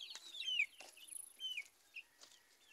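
Chickens cluck and call in short bursts, close by, with no one talking.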